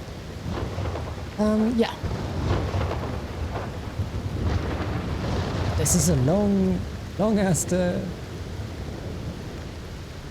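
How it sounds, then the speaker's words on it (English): A thunderstorm, added in editing, with steady rain hiss and low rolling thunder rumbling continuously underneath as someone talks over it. "I hope you can hear me over the thunder."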